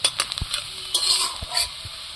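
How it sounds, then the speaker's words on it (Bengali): Onions frying in oil in a pan give a close, steady sizzle, with several sharp knocks and scrapes of a utensil stirring against the pan. "আমি এই ক্ষেত্রে পেঁয়াজটা আমি খুব লাল করে ভাজবি না, হালকা হালকা লাল হবে।"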